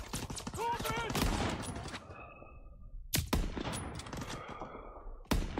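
Gunfire from the video game Call of Duty WWII: rapid bursts of shots and sharp cracks mixed with game noise, with players talking over much of it and a few loud isolated reports near the end.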